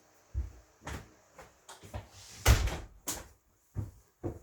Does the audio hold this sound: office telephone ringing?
no